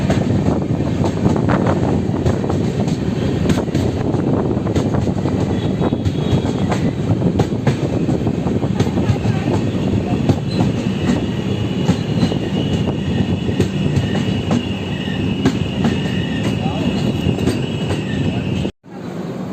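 An express train runs through Bulanpur railway station without stopping, heard from on board as a loud continuous rumble of wheels and wind noise with faint clatter, ending in a brief dropout.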